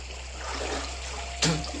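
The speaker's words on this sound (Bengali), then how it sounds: "Swimming pool. জলটা কোন দিকে যাইতেছে?" Water flows steadily in a swimming pool as a broad continuous wash, with a short splash near the end, close and fairly loud under a low hum.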